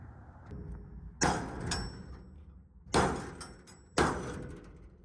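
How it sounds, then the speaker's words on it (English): A jammed shipping container door on a chicken coop being forced open: three loud, sharp metallic bangs and thuds spaced over a few seconds, with scraping and rattling between them. No one talks. "We're having some difficulties with the container door."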